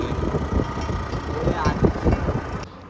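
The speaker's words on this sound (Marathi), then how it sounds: "बस आली 8ची बस." Bus pulling in and idling at a village stop, a low steady engine rumble under nearby voices and chatter.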